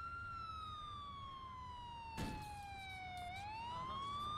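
Police car sirens in the video game GTA IV wail in long sliding tones, one falling slowly then rising again, over a low engine hum with a short burst of noise midway.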